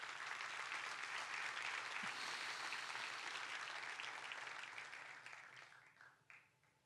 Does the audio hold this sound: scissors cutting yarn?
no